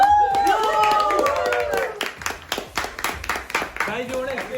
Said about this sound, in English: Guys, everyone clap, okay?